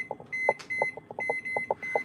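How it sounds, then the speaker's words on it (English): A kitchen timer being set for baking apple muffins gives a quick run of short electronic beeps in an uneven rhythm, close and fairly loud, with no talking. "set our timer"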